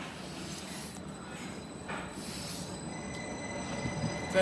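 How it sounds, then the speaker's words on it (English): A Norwich-bound passenger train passes through Stowmarket station, a steady broad rolling rumble with high wheel squeal lines running throughout and a slight swell at the end. "There goes the 12:13 Norwich bound service."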